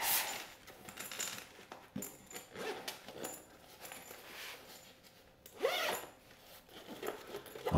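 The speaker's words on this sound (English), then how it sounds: "the zipper was very smooth" A Neewer tripod bag zipper being drawn open and shut, with soft rustling and small clicks throughout, quiet and close.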